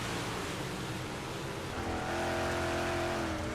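Big block modified race cars lapping Fairbury Speedway, a continuous distant roar of engines with a rising whine building through the second half.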